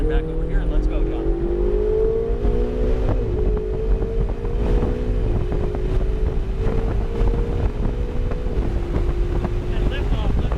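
A Ferrari 488 on a race track accelerates through steadily rising engine pitch with gear shifts, heard from inside the car as a continuous loud drone under an instructor's talk.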